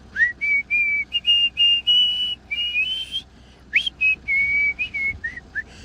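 A person whistles a tune close by, a series of clear sustained and gliding notes in an uneven melodic rhythm with short breaks between phrases, alone without talk.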